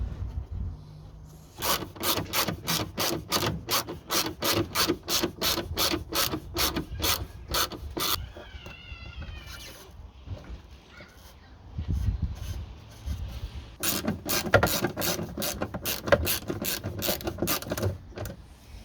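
A hand ratchet tightens the indicator bulb housing on a car in quick, even runs of sharp clicks. The clicking stops for a short pause, then starts again, close by and with no talking over it.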